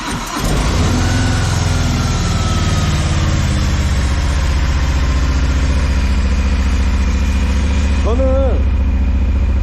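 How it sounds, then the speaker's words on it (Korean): A motorcycle cold-started after a key turn, its engine catching at once and settling into a loud, close, steady idle with a rhythmic low throb, a brief revving tone near the end. "바이크는 안 타더라도 냉간 시동 한번 걸어볼까요?"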